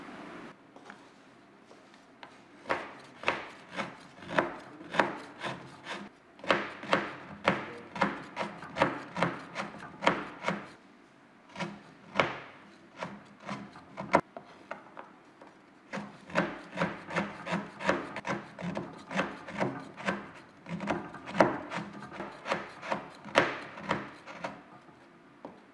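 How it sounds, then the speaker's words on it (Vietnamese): Rock sugar grated into shavings, close rasping scrapes in quick rhythmic bursts, pausing briefly between runs and then resuming, with no talking. "Đường phen sau khi chúng ta đã bào vụn, các bạn sẽ cho vào nồi."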